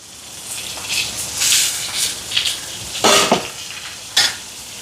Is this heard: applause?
no